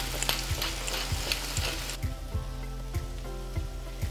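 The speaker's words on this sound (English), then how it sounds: "Now that the onions are caramelized a bit, you can see they've really softened up and mellowed out." Onions sizzle steadily in a hot pot for cauliflower soup while a spoon stirs them, scraping in a regular rhythm under the continuous, loud frying hiss.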